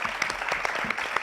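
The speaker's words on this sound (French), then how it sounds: "Non, applaudissez pour lui, s'il vous plaît." Audience applause in a live show hall, a dense steady patter of many hands clapping at moderate level, with no voices over it.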